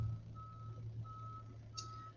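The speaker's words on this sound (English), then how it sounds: "They're still doing the construction out in the parking lot." A construction vehicle reversing in a parking lot beeps outside a window, three evenly spaced steady tones heard faintly over a low engine rumble, with a brief air-brake hiss near the end.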